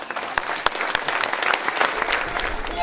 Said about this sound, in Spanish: Un aplauso para nuestro senador.